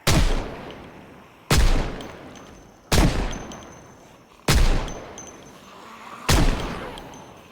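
Five loud, evenly spaced gunshots in the modded video game ZBay, each a sharp crack followed by a long ringing decay, about one and a half seconds apart, with no talking.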